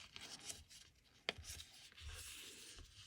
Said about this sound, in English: so let's go ahead and roll back our paper